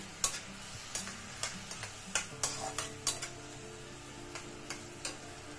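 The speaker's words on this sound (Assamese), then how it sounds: "ইয়াতে দিলোঁ বিলাহীখিনি দি গোটেইখিনি আকৌ অলপ লৰাই দিছোঁ" Tomatoes are stirred in a cooking pan, a quiet series of spoon taps and scrapes at an uneven pace over a low background hum and faint sizzle, with no voices.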